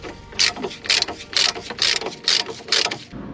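A socket ratchet unscrews a suspension link nut on a Fiat Bravo, giving seven close, crisp bursts of rapid clicking at a steady back-and-forth rhythm, with no talking.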